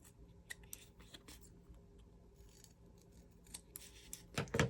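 Scissors snipping Liberty of London fabric scraps to round off bookmark corners, a few quiet close cuts spread across a faint room background, ending in a louder cluster of snips.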